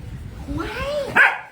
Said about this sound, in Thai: ไม่เห่ามั่ว ดื้ออยู่ตัวเดียวนะ